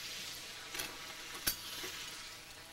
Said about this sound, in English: While that's frying